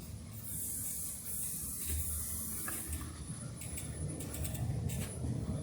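A spray gun hisses in bursts while yellow paint goes onto a tractor radiator panel inside a paint booth, with faint clicks and shop noise around it.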